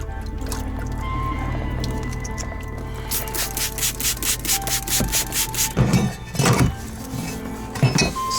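A cleaning pad rubs over a 1991 combine header, starting as a soft, continuous scuffing and building into a fast series of rhythmic, close scrubbing strokes, with a few louder scrapes near the end.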